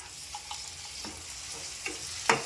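Soaked chana dal being stirred into fenugreek greens in a pan, giving a quiet sizzle with a few faint scraping strokes and one sharper clack of the spoon near the end.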